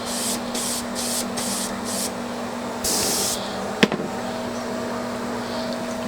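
An airbrush sprays paint onto wood in short hissing bursts, a series of quick puffs and then a longer spray close to the microphone, over a faint steady hum.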